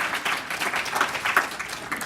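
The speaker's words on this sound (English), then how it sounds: "So another round of applause." An audience at a food summit keynote in Chicago gives a round of applause, a moderate, steady patter of many hands clapping at some distance.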